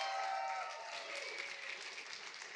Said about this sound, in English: please give a round of applause for Paul Thomas Anderson